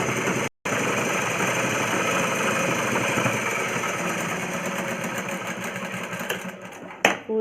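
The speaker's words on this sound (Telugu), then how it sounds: "ఇప్పుడు ఏ స్టిచ్ అయితే వేసామో ఆ స్టిచ్ మీద మళ్ళీ ఇంకో సెకండ్ స్టిచ్ చేయాలి" A sewing machine runs a second line of stitching over an earlier seam on a plain cross-cut blouse, a close, continuous motor whir that holds steady for several seconds after one brief break, with no voices.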